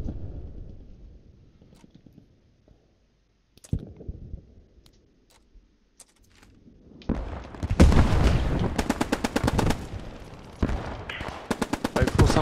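Machine gun fire in a World War II video game set in Driel: a quiet stretch with a few scattered clicks and distant thuds, then long, loud rapid bursts of automatic fire broken by short pauses, close and harsh.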